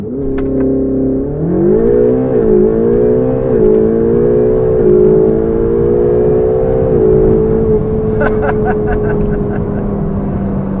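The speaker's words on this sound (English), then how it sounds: "press the launch button, you can hear it, ready, floor it, dump" Ferrari 488 GTB in race mode on a launch-control full-throttle run, the loud engine note climbing steeply through rising gear pulls with brief dips at shifts, then settling into a steady high drone near the close.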